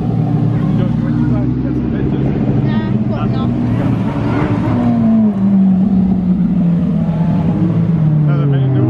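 A bright yellow Lamborghini Huracan Evo supercar accelerates away while leaving a supercar weekend at Beaulieu. Its loud engine note falls steadily in pitch as it pulls off, with background crowd noise underneath.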